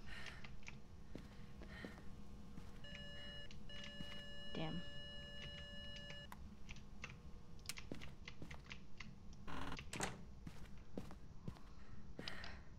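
Electronic beeping in the Phasmophobia ghost-hunting game, a repeated steady tone pattern lasting a few seconds, faint beneath keyboard clicks and scattered clatter.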